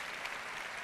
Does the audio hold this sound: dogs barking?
no